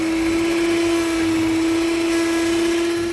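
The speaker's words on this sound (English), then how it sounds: "So now it's time to take your whisk. I'd use an electric one." Electric whisk beating a cheese and egg batter in a bowl, a steady, loud motor drone with a constant pitch and no pauses throughout.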